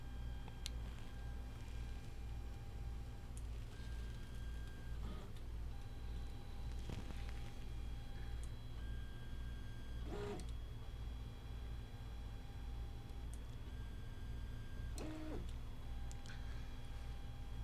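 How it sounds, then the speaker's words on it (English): 3D printer running its bed-leveling routine, the probe tapping touch points across a grid: faint, widely spaced ticks and brief whirs every few seconds over a steady hum of fans and motors. "it's going to go around with this little pokey touch thing a whole bunch of times, and it's going to form a grid of different touch points"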